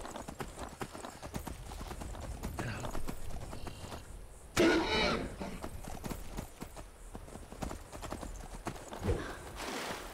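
Rapid clip-clop of horse hooves galloping steadily in the modded video game Skyrim, with a brief louder burst midway and faint background noise.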